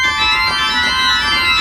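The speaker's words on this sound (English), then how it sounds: "here's the mixture in the Hauptwerk. And alone, it sounds like this" A pipe organ's Hauptwerk mixture stop sounds alone in a sustained chord, a bright, shimmery stack of high pitches held steadily and loud.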